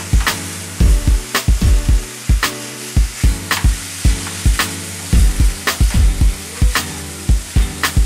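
Ground beef browns in a pan for chili, sizzling steadily beneath repeated scraping and stirring strokes of a utensil against the pan, close and loud, with no talk.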